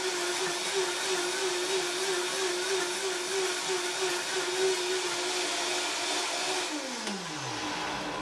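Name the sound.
blender blending nuts for coconut yogurt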